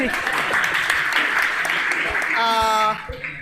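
Audience applause for the host at a FOSS community meetup in Kochi, moderate and continuous, fading near the end as a voice and a brief tone come through.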